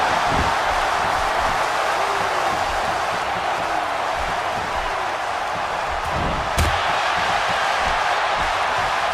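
A wrestling arena crowd roars steadily in support of Sasha Banks during a women's title number-one contender match, a dense, continuous wash of cheering with a brief sharp spike near the end.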